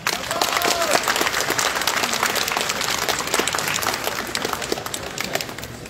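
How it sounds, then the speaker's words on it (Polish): Audience applause at a cosplay contest during a fantasy convention in Gliwice, steady crowd clapping sustained for several seconds, fairly close and full. "Wielkie brawa!"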